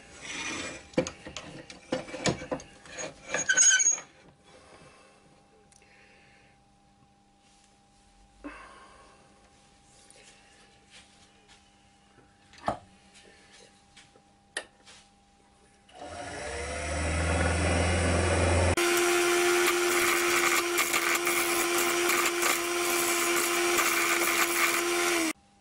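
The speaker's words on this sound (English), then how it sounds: "It's a little 10mm round carbide tip, and that seems to be taking it off quite nicely." Wood lathe turning an Indian blanket design bowl, a 10mm round carbide-tip tool shaping the stem: scattered scraping and knocks at first, then a loud continuous whirring grind that builds and holds to the end.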